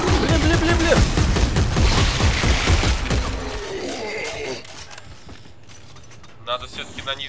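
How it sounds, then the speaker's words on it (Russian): Rapid bursts of Dead Space 3 gunfire with mechanical clatter for a few seconds, then fading into quieter ambience with faint effects. "Я там стреляю туда."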